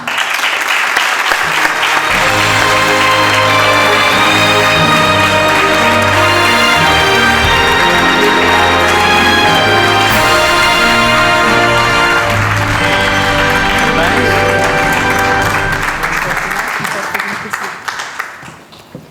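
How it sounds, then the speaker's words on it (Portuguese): Sustained applause from an audience at an authors' gala fills the room for about fifteen seconds, loud and dense, with steady tonal music underneath, then fades out near the end. "Peço, por favor, uma salva de palmas para a Maria Elizabeth Pinho."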